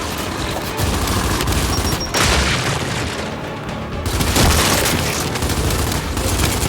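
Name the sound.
frag grenade explosion in video game Gears of War 5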